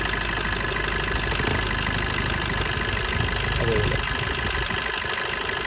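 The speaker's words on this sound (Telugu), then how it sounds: "This is the engine real noise." A Maruti Breeza car engine idles steadily close by, an even mid-pitched hum with a faint background voice.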